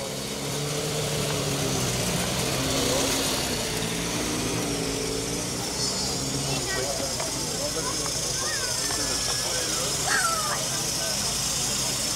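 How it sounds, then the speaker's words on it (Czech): At the start of a vintage car rally, a Škoda 1000 B with a four-cylinder one-litre engine runs at a low, steady idle, fairly quiet beneath a commentator's continuous talk and a bit of crowd murmur. "Škoda 1000 B, čtyřválcový litrový motor"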